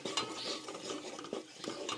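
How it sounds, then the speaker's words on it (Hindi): Gram flour (besan) roasts in a pan over a low flame, stirred with soft, repeated scraping and light rubbing strokes close by, with a faint sizzle underneath. "अब हम इसमें बेसन जो है वो शामिल करेंगे और इसको बिल्कुल लो फ्लेम पे हम इसको भूनेंगे"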